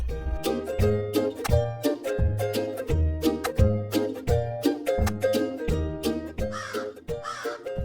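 A crow caws repeatedly in a steady rhythm, loud and close, each harsh call evenly spaced, with a brief rustle of noise near the end.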